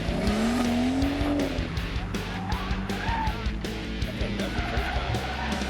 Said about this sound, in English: these 2 Series cars are exceptionally tossable and lots of fun to thrash around on a track